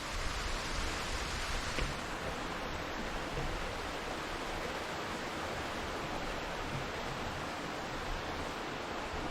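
Cascada del Toro Muerto in Mina Clavero roars steadily in the distance, a broad, even wash of falling water with no break or variation across the whole stretch.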